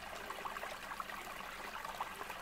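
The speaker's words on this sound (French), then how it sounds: "on a un petit ruisseau qui coule comme ça," A small woodland stream after a dry spell, trickling steadily in the forest: continuous soft, fairly faint water babble with light splashes, heard alone without voices.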